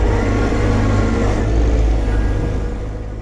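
A John Deere 1025R compact tractor drives in four-wheel drive with the diff lock engaged, its engine holding a steady, close, loud drone that fades slightly toward the end, with no voices.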